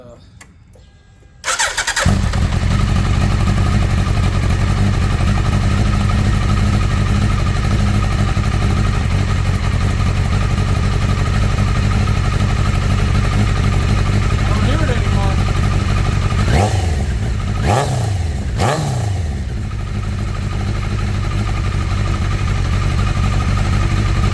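A 2003 Suzuki Hayabusa, freshly reassembled after clutch work, cranks and fires up, then settles into a loud, steady, close-up idle with a couple of brief blips and a faint voice late on.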